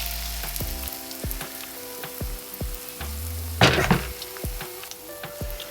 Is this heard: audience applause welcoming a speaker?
no